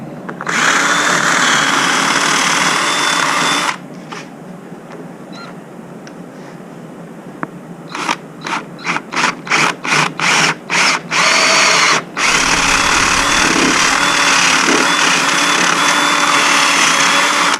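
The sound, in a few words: power drill drilling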